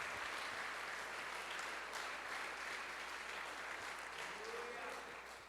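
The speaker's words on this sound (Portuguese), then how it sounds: "que aplaudir, aplauda" Faint, steady applause from a church congregation during a sermon, an even wash of many hands with voices faintly under it, fading slightly at the close.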